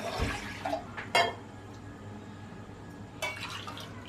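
Water is poured over rice in a cooking pot, a few short splashing pours with quiet pauses between them, close and fairly soft, with no talk.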